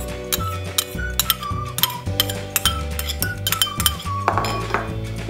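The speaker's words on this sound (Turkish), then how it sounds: "Şöyle kaşıkla karıştırıyoruz." A metal spoon clinks steadily against a bowl while stirring a carrot cake cheesecake batter with orange zest and grated carrot, with repeated close, bright taps and scrapes over a low hum of background music.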